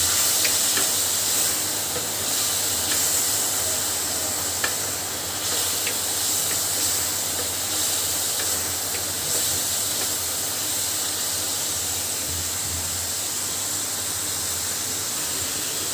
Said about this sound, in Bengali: মশলাটা কিন্তু খুব ভালোভাবে কষানো হয়ে গেছে।